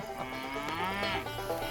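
A cow moos in a milking parlor on a farm, one long drawn-out low call carrying close and clear for nearly two seconds with no talk over it.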